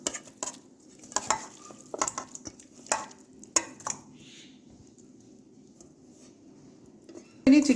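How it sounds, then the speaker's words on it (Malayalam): Raw chicken tipped into a pan of softened onions for a Kerala-style chicken curry, with scattered clinks and scrapes of stirring, a soft background hiss and a louder clatter right at the end. "അപ്പോൾ ഇനി നമ്മൾ ചിക്കൻ ചേർത്ത് കൊടുക്കാൻ പോവുകയാണ്."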